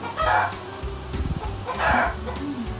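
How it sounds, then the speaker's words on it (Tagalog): Chicken sounds: a couple of squawky calls separated by a burst of quick clucking, moderately close. "at ang manok or chicken ay may tunog na"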